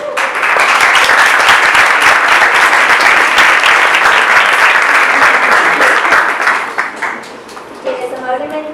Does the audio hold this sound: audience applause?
yes